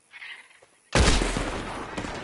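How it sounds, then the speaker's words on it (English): Gunfire in the video game Red Dead Redemption 2, coming from a barn, erupts suddenly as a loud burst of overlapping shots after a quiet moment, then a sustained rumbling volley. "The gunshots are coming from that barn!"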